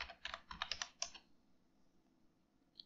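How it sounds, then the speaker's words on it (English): Keys clatter on a computer keyboard while text is entered into a Canva design search, a quick run of close, crisp clicks lasting about a second before a quiet room. "from here I will just type neon"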